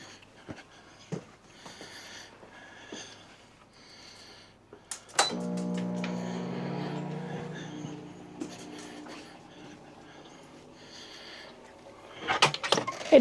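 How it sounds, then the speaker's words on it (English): A 1,500-watt microwave oven powered by a BLUETTI Elite 300 portable battery station switches on with a click and then runs with a steady low hum for several seconds amid faint handling noises, ending in clatter. "I'm gonna flip on the microwave"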